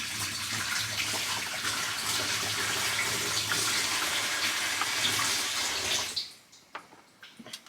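Water gushing loudly into a DIY campervan's water tank, a steady rushing pour that stops abruptly after about six seconds, followed by faint drips and knocks.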